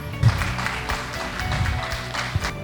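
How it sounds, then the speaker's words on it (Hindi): Audience applause at a direct selling business event in India, a steady wash of clapping from a crowd holding at an even level throughout. "मेरी इस प्यारी सी टीम के लिए एक बार जोरदार तालियां।"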